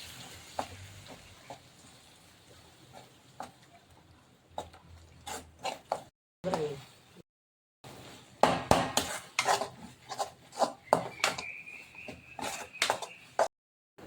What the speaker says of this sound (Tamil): இதை வந்து நம்ம நல்லா கிண்டிடலாம்.